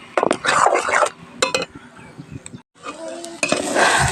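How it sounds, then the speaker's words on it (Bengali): Bottle gourd leaf paste, seasoned with ground cumin, is stirred and fried in a wok, with loud bursts of scraping and sizzling, metal utensils clinking against the pan, and a brief pause before the stirring resumes. "বেশ অনেকক্ষণ ধরে ভাজছি আমি, কড়াইতে এভাবেই নাড়াচাড়া করে যাচ্ছি।"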